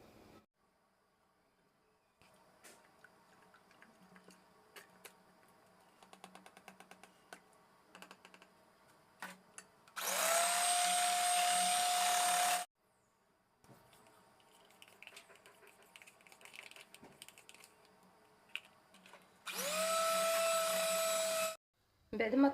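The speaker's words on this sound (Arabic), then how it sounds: "غنبداو على بركه الله نطرب الكريمه ديالي" An electric mixer whips cold liquid cream in two loud, steady buzzing bursts of a few seconds each, separated by quieter stretches of kitchen clatter.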